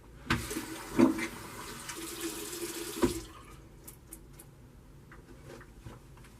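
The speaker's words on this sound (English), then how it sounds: "let me rinse off and we'll do some post shave" Running tap water for rinsing off after a wet shave, with sharp splashes and a loud gush early on, then quieter intermittent dripping and small handling sounds.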